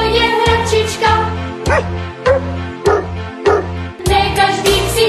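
A small dog barks repeatedly in a Czech children's song about a little dog, with the yips and bow-wows falling in rhythm over a loud, bouncy musical backing.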